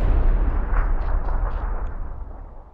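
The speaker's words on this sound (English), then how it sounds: "I purposely threw this grenade in front so that I can make it to the tree." A grenade blast in PUBG erupts as a loud, deep boom right at the start, then rolls off into a long rumbling tail that fades over a few seconds, with no voices.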